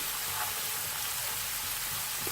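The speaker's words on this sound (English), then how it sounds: "So we're just going to let that fry off for another 40 seconds." Curry base gravy frying in a hot pan for a chicken Ceylon curry, a continuous soft sizzle and crackle of oil held at an even, moderate level throughout.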